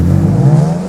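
A BMW E46 M3 with only a section 3 back box exhaust gives a loud, close, raspy engine drone that rises steadily in pitch as it revs, with no talking.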